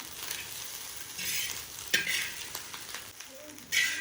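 Burnt chicken fried rice being stirred and tossed in a hot pan, a steady low sizzle broken by a few sharper scraping strokes of the spatula, close and moderately loud with no talking.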